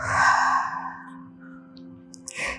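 A long, deep, audible exhale during a slow core and pelvic floor rehab breathing exercise, loud at first and fading, with soft breath sounds after it and a faint sharp inhale at the end.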